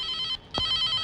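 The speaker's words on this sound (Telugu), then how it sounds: "ఫోన్" A telephone bell rings in a short electronic trill, pauses briefly, then rings again, with a soft knock in the gap.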